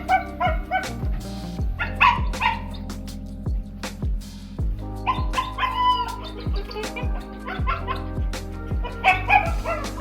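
A dog barking in repeated sharp bursts mixed with yips and whimpers, close and fairly loud, with short gaps between barks throughout.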